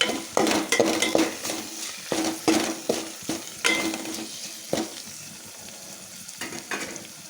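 Curry leaves and mint hit hot oil in a pot while making bagara rice, giving bursts of crackling sizzle along with repeated stirring scrapes and light clinks of a utensil against the pot, close and with no talk.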